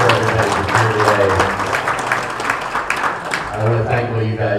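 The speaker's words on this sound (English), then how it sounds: "Give yourselves a round of applause." An audience at an Elks Lodge gathering claps in a sustained burst of applause, while a voice talks loudly over it.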